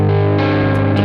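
A heavily distorted electric guitar through a high-gain amp channel into a Mesa cabinet, dialed toward a particular song's tone, rings out loud and thick with a sustained, saturated chord and no talk over it.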